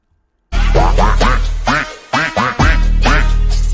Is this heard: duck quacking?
yes